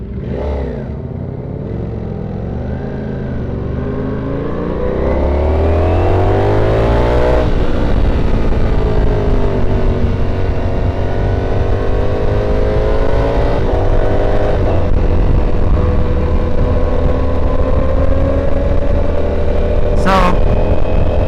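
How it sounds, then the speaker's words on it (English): Aprilia RS660 and Kawasaki ZX6R sport motorcycles riding together, engines droning loud and steady with rising and falling revs as they accelerate and shift, a continuous close roar throughout. "Got my boy Jacob on his RS660, and my guy Brock on my ZX6."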